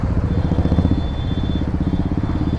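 Motorcycles ridden through traffic near Panvel during a bikers festival, with a steady, loud engine rumble and dense low-end chatter from several bikes running close by, continuous throughout with no talk.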